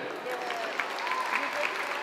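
An audience clapping at a children's show in a shopping mall, a brief burst of applause mixed with crowd noise, with a voice talking over it.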